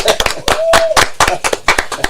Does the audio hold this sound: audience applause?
yes